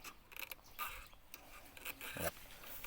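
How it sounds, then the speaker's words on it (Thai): A hand file is drawn across saw teeth during sharpening, making a series of short, uneven rasping strokes that sound close and fairly quiet. "นี่ฝึกหัดครับ ถูตะไบยังไม่คล่องเท่าไหร่"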